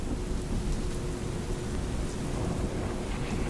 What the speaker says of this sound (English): accompanied by rain and thunder.